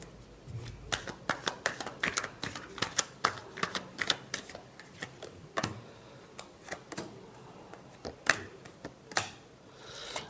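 Tarot cards are shuffled by hand in a quick, irregular series of crisp flicks and slaps, close and fairly quiet, with no talking.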